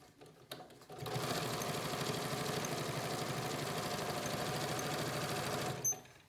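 A domestic sewing machine stitches binding onto a quilt in one steady run of rapid, even needle strokes lasting about five seconds, then stops with a short clunk. It is close and fairly loud, and no one speaks.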